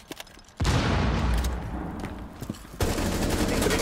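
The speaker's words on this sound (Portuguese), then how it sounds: "Atirando uma frag!" Frag grenade blast in the Rainbow Six Siege shooter, a sudden loud broadband burst that rolls on as heavy rumbling, followed by a second sharp loud crack and sustained noise; no speech.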